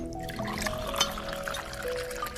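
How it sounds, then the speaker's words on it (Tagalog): Water poured into a container in a home setting, a soft trickling pour with faint clinks, moderately quiet against background room noise. "Lalagyan ko ng tubig."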